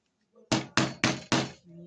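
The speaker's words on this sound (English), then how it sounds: "You take your hammer" A hammer strikes metal four times in quick succession, sharp loud knocks bending a piece of metal by hand for a handmade fashion bag.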